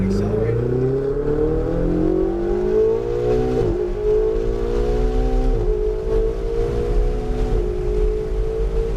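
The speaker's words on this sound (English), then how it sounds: "And go ahead and accelerate." A car accelerates on a coned driving course, its engine note climbing steadily through several gear shifts and then rising again, loud and close over about nine seconds, with a voice speaking over it.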